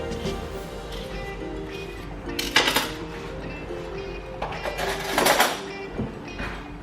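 Soft scrapes and metallic clinks of a utensil scooping ripe avocado flesh into a large bowl for guacamole, with two sharper knocks against the bowl amid quiet background hum.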